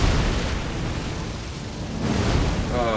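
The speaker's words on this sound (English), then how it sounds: "Now that's a big explosion." A big explosion in the video game Elden Ring during the Magma Wyrm Makar boss fight, a loud broad rumbling blast that swells, dips and surges again over three seconds.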